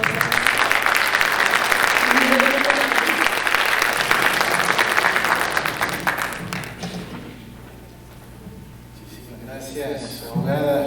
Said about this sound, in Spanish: Pues demos un dale aplauso, por favor, un gran aplauso